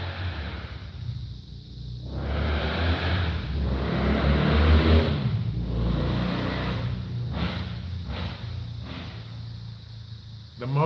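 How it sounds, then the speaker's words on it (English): Motorcycles roar past outdoors in a continuous engine rumble that swells and fades as they rev and pass, loud and close for about eleven seconds, with a voice faintly underneath. "The motorcycles are out, folks."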